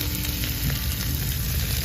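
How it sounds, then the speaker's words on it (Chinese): Fish belly fries in a pan of oil alongside tiger fish on a boat, with an even, continuous sizzle that is close and fairly loud. "鱼肚也一起煎啊。"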